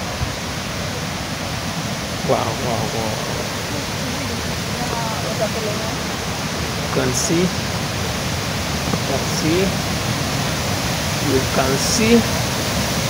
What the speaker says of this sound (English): Can you hear the sound of water?